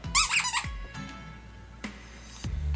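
Squeaky Lamb Chop plush dog toy, well worn and dirty, gives a loud, wheezy multi-pitched squeal near the start, followed by soft handling thumps and rustles close by.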